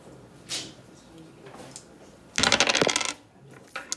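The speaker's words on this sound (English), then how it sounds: "So I'm just going to use the dice of destiny." Dice rolled in a classroom: a short rattle and several quick clattering bounces on a hard surface, preceded by a couple of faint taps, set against quiet room tone.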